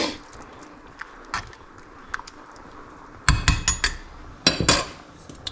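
Black beans being stirred into a pot of organic wild turkey chili: a few soft scrapes early on, then a loud cluster of sharp spoon-on-pot clinks and knocks near the end, with no talking.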